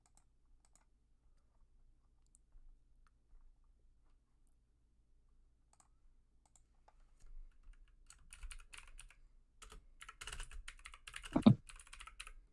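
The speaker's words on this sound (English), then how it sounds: "he's typing in Discord updates." After a long quiet stretch, soft keyboard typing begins, rapid clicking bursts that grow busier toward the end, close and faint.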